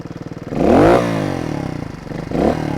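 A Beta 300 trials motorcycle engine, heard close, revs in two sharp bursts that rise and fall over a rapid, pulsing idle, with a throttle blip near the start and another near the end.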